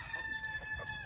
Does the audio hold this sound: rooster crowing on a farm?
yes